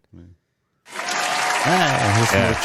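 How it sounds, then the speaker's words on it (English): Applause from a small group breaks out after a short word and a pause, then sustains at a steady level while a voice talks over it. "round of applause for Jose."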